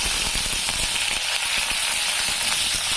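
Small shallots fry in hot oil in a kadai for fish curry, giving a loud, steady hiss of dense sizzling and crackling that runs without pause.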